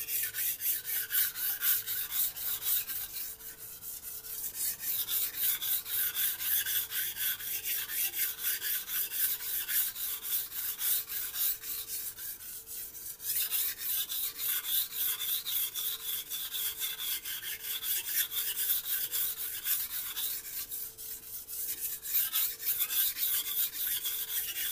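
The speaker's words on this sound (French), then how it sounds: "Donc là, on va commencer l'affûtage." A steel blade is drawn back and forth over a wet Shan Zu 3000/8000 whetstone, making a steady rhythmic rasping scrape that continues without pause, close up and alone with no voices.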